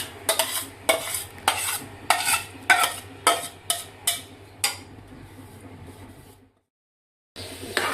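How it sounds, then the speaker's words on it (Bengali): A raw mango mixture being stirred in a pan on the stove, a run of rhythmic scraping strokes with a utensil, close and clear, over a low hum before a sudden silence. "এভাবে নেড়ে চেড়ে বারবার ঘন ঘন এইভাবে নাড়তে হবে, না হয় নিচে লেগে যাবে।"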